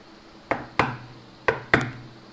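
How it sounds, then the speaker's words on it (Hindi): A fox knocks at a farmer's door at night: four sharp wooden raps, a quick pair followed by a pause and another pair, close and clear against a quiet background. "रात को लोमड़ी ने किसान के दरवाजे को खटखटाया"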